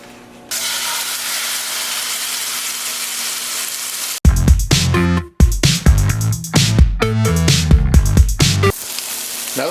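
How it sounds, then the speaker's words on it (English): Steak sears in coconut oil in a hot non-stick pan at about 340 to 350 degrees: a loud, steady close sizzle, then a run of sharp clanks and scrapes of the pan and utensils over the continuing hiss. "the steak's been cooking for about 2 to 3 minutes on one side"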